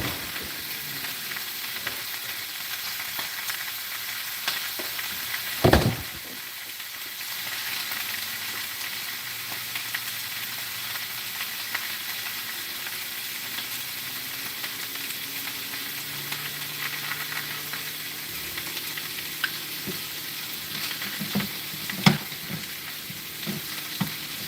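Food sizzles and fries in a pan on high heat, a dense steady hiss carrying throughout, broken by one sharp clatter near the start and occasional utensil knocks, with no talking.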